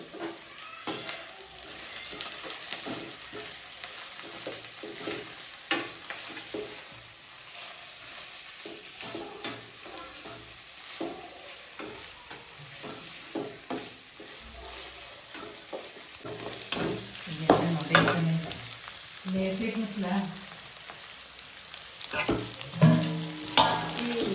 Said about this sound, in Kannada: ಈಗ ನಾನು ಕರ್ಬೇವಿನ ಸೊಪ್ಪನ್ನ ಆ್ಯಡ್ ಮಾಡ್ಕೊತೀನಿ